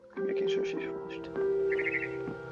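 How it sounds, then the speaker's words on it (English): A barn swallow chirps in What Remains of Edith Finch, with a few short, bright chirp bursts heard under a steady droning tone and a talking voice. "Then I heard chirping outside my window."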